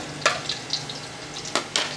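Garlic sizzles in a hot pan, with a steady frying hiss broken by short bright bursts as it is stirred, close and fairly loud, with no voices.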